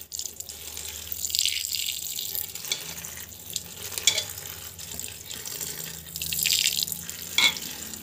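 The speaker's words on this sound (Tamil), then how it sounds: "எவ்வளோ தண்ணி தேவையோ அந்த அளவுக்கு தண்ணி வந்து விட்டுக்கலாம்" Water pours steadily into a cooking pot holding greens, a continuous splashing stream lasting several seconds at close range with no talk.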